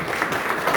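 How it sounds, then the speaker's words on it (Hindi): Audience applause at a thank-you ceremony in Mohanlalganj block, a dense, steady patter of many hands clapping for under a second at moderate loudness, with no voices standing out. "जोरदार तालियों से सभी का स्वागत"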